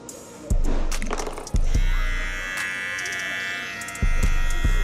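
An electric hair trimmer from a clipper and trimmer set runs with a steady, close buzzing hum, switching on and off a few times with sharp clicks as it starts.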